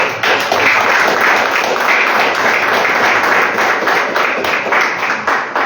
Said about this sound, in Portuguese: Ei, uma salva de palmas,